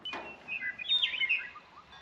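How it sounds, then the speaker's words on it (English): Small birds chirp and tweet outdoors in a string of quick, bright calls, fairly clear against a quiet background with no voices. "We can listen to the birds"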